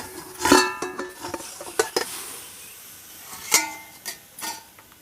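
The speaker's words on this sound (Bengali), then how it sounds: "এবার ঢাকাটা খুলে নিচ্ছি" A lid lifted off a stovetop pot in which a chocolate sponge cake made from Oreo biscuits has been baking, giving several sharp metallic clanks and clinks spread over a few seconds, close by with no talk.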